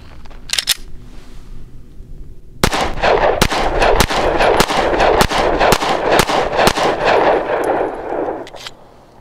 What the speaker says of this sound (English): Now I only have one magazine, so I'm gonna fire 8 rounds and then reload it and shoot another 8.